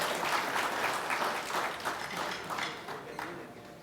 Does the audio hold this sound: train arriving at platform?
no